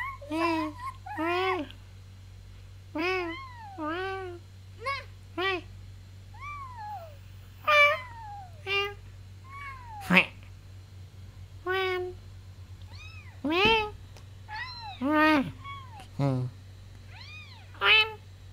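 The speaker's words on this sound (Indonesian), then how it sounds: "itu suara kucing beneran" A cat meows repeatedly, close and clear, in a long run of varied plaintive calls over a low steady hum.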